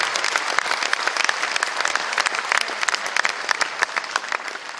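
Audience claps loudly and steadily in a dense burst of applause welcoming the Madhya Pradesh chief minister at an event honouring sportspeople.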